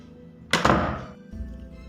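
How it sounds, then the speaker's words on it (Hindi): A door suddenly slams shut with one heavy, loud thud and a short rumbling decay, close and alone, as a sound effect in a Hindi horror story about a haunted school. "उस कमरे का दरवाज़ा एकदम से लग गया"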